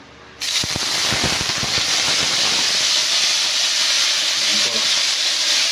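Pork toasting in a hot pan for caldereta, a loud steady hiss of sizzling fat that bursts in suddenly with a few crackling pops, then holds close and continuous.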